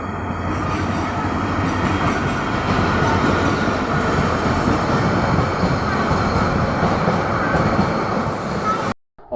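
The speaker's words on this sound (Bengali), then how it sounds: "এটা ছিল ঢাকা চট্টগ্রাম আন্তনগর ট্রেন প্রবাল এক্সপ্রেস।" Probal Express, the Dhaka–Chattogram intercity train, rumbles steadily through Satkania station, its loud continuous wheel and carriage noise filling the scene before cutting off abruptly at the end.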